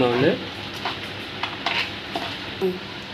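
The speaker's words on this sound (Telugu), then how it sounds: "నెయ్యి కూడా వేస్తున్నానండి కొద్దిగా వేసుకొని చక్కగా ఒకసారి తిప్పేసుకున్నాం" Chakkera pongali being stirred with ghee, cashews and raisins, close scraping strokes and a gentle sizzle in the pot, with a brief voice at the start.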